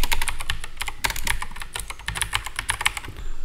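Rapid typing on a computer keyboard while entering commands in a command prompt, with dense, uneven, close clicking of keys throughout.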